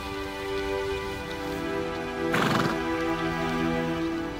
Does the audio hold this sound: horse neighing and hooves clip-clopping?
yes